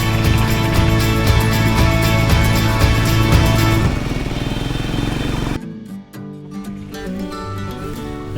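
A motorcycle rides along a winding ghat road toward Araku, its engine droning loudly and steadily, then its tone shifts abruptly about two-thirds through. No one speaks.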